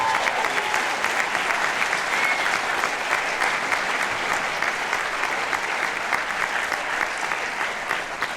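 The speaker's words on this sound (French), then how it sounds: "Tonnerre d'applaudissements pour elle." A steady, dense burst of applause from a cinema audience at a film premiere, a continuous wash of clapping without pause.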